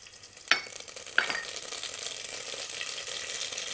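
Dry red chilies and mustard seeds dropped into hot oil in a pressure cooker, two sharp hits followed by a steady, loud sizzle that continues close up without talk.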